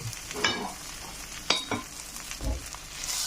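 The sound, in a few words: tacos frying in a pan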